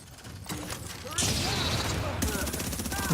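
Rapid bursts of turret gunfire in The Division video game, a dense, continuous fusillade of shots that swells louder partway through, with game effects mixed in.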